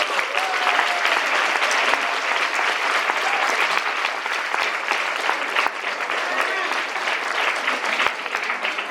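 Audience applause welcoming the keynote speaker at a GOP luncheon, a dense, steady wash of clapping from a large crowd that holds loud and unbroken throughout.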